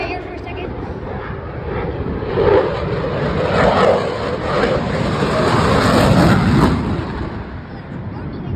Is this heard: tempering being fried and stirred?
no